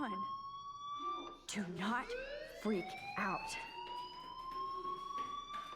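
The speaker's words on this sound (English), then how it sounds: "Do you hear that fire alarm?" A school fire alarm in the game Life is Strange wails continuously with a rising, sustained electronic tone, heard beneath characters' speech.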